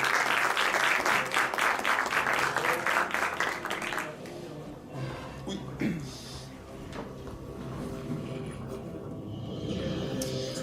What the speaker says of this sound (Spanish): vamos a recibirle, por favor, con un aplauso a Nacho Requena